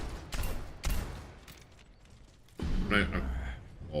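Gunshots fired at a training bot in Overwatch, a few separate reports around the start and again near the three-second mark, fairly soft with muffled game noise and some talk underneath.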